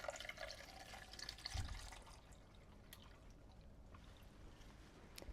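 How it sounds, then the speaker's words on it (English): Water is poured into a flower vase, a soft close trickle and splash that swells near the start and then settles into faint dripping and gurgling. "And then fill it up with water."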